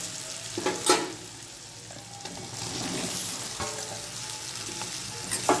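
Potatoes going into hot oil with turmeric for Gujarati sukhi bhaji, giving a close, steady sizzle with stirring scrapes and a couple of sharper clatters. No one speaks.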